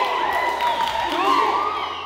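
Wedding guests at a church celebration raise a sustained, high wavering ululation in several overlapping voices, loud and continuous throughout amid crowd noise.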